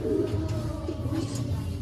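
Backyard birds, likely pigeons or doves, give low soft cooing calls, close and steady under faint background noise.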